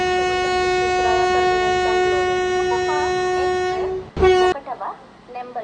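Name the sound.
Rajdhani Express train arriving at platform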